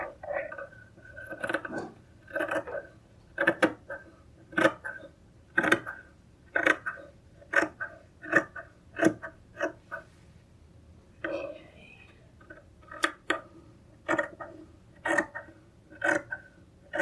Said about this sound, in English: you can cut these out together at the same time.